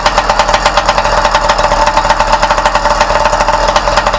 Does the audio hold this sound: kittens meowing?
no